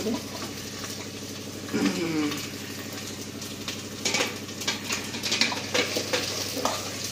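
Potatoes are fried in oily masala and stirred, giving a steady close sizzle broken by scraping and clattering of the spoon against the pan.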